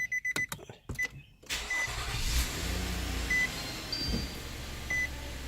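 A 2010 Nissan Murano starts up: clicks and beeps, then the engine catches and settles into a steady idle, with a few chimes sounding over the running engine.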